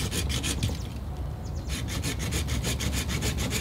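A hand saw cuts through a weak branch of a freshly dug maple tree. It makes steady back-and-forth rasping strokes, pauses briefly, then resumes a quicker, even rhythm, close and clear with no talk.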